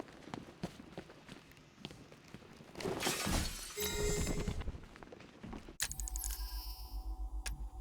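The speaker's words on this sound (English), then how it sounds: "Could have sworn I heard broken glass." Glass shatters in Batman: Arkham Knight, a bright crashing burst amid footsteps and running, followed by a steady pulsing rhythm.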